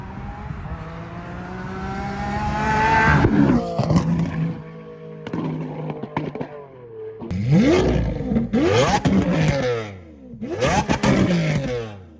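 A Lamborghini Aventador with a custom exhaust screams past in a series of flybys, its engine revving hard with rising and falling high-pitched wails, loud and close, alone without talk.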